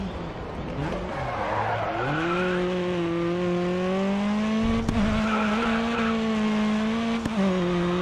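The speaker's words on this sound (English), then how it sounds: "Heavy braking, heavy braking." Touring race car in Grid Autosport brakes hard, with a steady engine drone falling and rising alongside squealing, skidding tires over several seconds, loud and continuous, with no talking.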